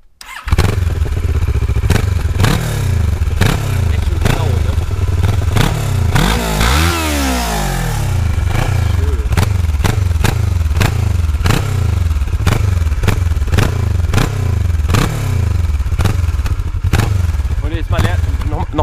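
A motorcycle engine runs close by throughout, rumbling with sharp repeated throttle blips and one long rising rev that climbs and drops back. A voice speaks briefly over it.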